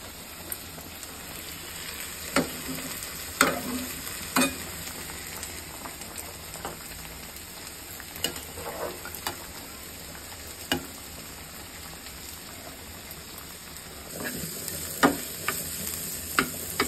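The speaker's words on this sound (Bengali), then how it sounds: "লাউয়ের খোসা ভাজি হয়ে গেছে" Gourd peel frying in a pan gives a faint continuous sizzle with scattered sharp ticks and scrapes of a stirring utensil, fairly quiet and without speech.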